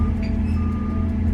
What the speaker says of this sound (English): And so somebody decides to drive a van while you're working.